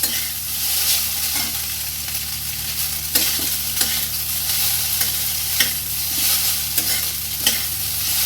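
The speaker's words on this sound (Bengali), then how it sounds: "দিয়ে পাস্তাটা একটু হালকা করে ভেজে নেব" Macaroni pasta is lightly fried and stirred in a pan for macaroni kheer, a constant close sizzle with regular scraping strokes of the spoon and no voices.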